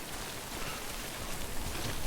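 Steady rain falls across a Death Stranding game landscape, a dense, even hiss of drops that holds close and fairly loud for the whole stretch with no voices over it.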